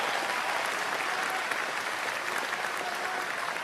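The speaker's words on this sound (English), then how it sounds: "Give them a round of applause." A crowd at a Liberal election rally claps in sustained, even applause, a dense patter of many hands that holds steady for a few seconds.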